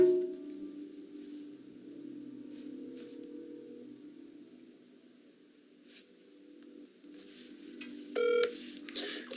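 Telephone keypad tones as a call is dialed: a steady low hum fades to near silence, then a quick run of bright dialing beeps follows near the end.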